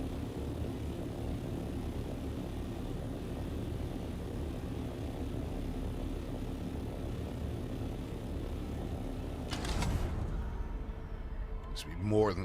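Aircraft engine drone in the Dune video game, a steady broadband roar throughout with a brief louder swell near the end, with no talking.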